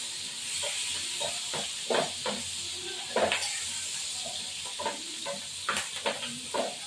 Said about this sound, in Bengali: পাঁচফোড়নটা ভাজা হবে।